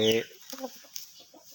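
A chicken gives a short, loud squawk up close, followed by a few softer clucks.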